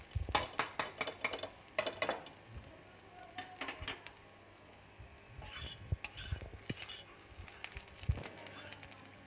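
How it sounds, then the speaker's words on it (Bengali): Potato and cauliflower for a paratha filling are mashed in a pan, giving close, irregular scraping, tapping and clinking of a utensil against metal, with bursts of activity separated by brief quieter stretches. "এবার আলু ফুলকপিটা আমি একটু ম্যাশ করে দিচ্ছি"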